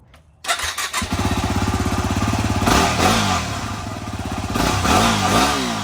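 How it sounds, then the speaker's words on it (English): A stock Yamaha WR250R dirt bike engine kicks to life and idles with a rapid, rattling thump, then revs up in a few quick throttle blips before settling back. "here's a sound test of what the bike sounded like stock."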